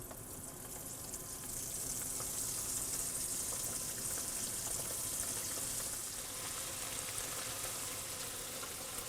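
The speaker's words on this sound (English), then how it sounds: "You want to lower them into that oil gently." Cabbage and bean croquettes fry in oil with a steady, even sizzle that hisses continuously, close but soft, with no pauses.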